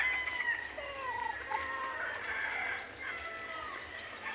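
Fighting roosters on a farm cluck and crow, the calls repeating at moderate distance over a quiet background.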